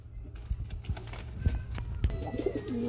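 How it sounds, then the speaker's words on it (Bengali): A pair of Indian Lotan pigeons coo softly in a loft, low murmuring coos mixed with wing flutters and small knocks, faint under a voice speaking throughout. "ঢাকের কবুতর খুবই সুন্দর এক জোড়া ইন্ডিয়ান লুটন"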